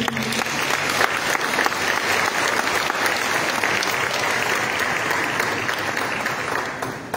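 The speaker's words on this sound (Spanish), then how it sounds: "Brindémosle un fuerte aplauso, por favor." An audience at a book presentation bursts into loud, sustained applause, a dense close wash of clapping that stays steady and tapers slightly at the end.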